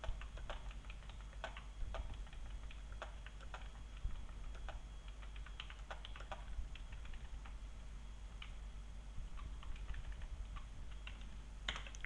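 Someone types steadily on a computer keyboard while working through an SQL lab exercise, with scattered close clicks and keystrokes over a quiet background hum and no talking.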